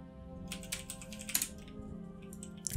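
Fingers tap out a command on a computer keyboard, a quick run of close, crisp keystrokes in an irregular rhythm with a few sharper clacks.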